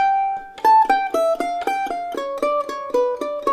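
Next phrase of the A section of Blackberry Blossom, played solo as a brisk stream of evenly spaced picked notes that runs a few seconds, close and clear with no voices.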